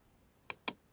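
Two quick, crisp clicks of a computer mouse while selecting in Photoshop, close and clean and about a fifth of a second apart, over a quiet background with no voices.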